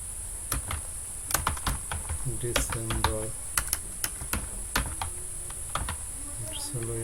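Quick, light keystrokes on a computer keyboard tap out text in irregular bursts, close and fairly quiet, with a steady high electronic whine behind them and no talking.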